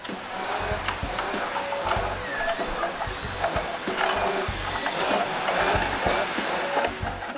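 A vacuum cleaner runs steadily throughout, a continuous whirring drone with intermittent bumps and clatter as it is pushed around a room before a carpet is laid; no one speaks.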